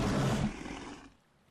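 A loud, growling roar, the attack cry of the Argentavis, a giant bird in the game ARK: Extinction, rings out cat-like and tiger-ish for about a second before fading into a quieter tail.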